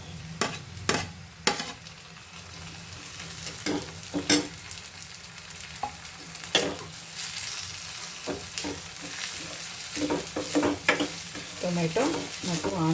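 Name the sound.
tomato and onion frying and being stirred in pan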